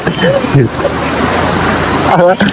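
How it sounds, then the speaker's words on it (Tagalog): Loud, broad rushing river water fills the clip, a constant roar like a fast river, with voices speaking briefly over it, at a farm in Tayabas, Philippines. "malakas yung tubig"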